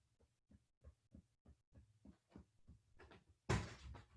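Fingers tap and thump on the chest during a yoga session, a quiet series of regular low knocks about twice per second, ending in a louder rustle.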